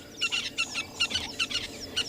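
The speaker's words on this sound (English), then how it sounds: "Listen to these birds." Morning birdsong in the South African bush, a run of repeated bright chirping and clucking calls in quick bursts, close and fairly clear against quiet background, with no talking.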